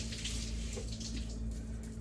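Tap water running steadily over fresh dill in a home kitchen, a soft continuous splash beneath a low steady electrical hum.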